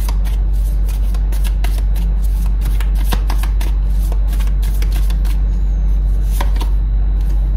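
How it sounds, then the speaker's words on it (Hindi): A deck of tarot cards is shuffled up close, with rapid, repeated papery riffles and slaps in quick bursts over a constant low background hum. "फिर से शफल कर लेते हैं एक बार।"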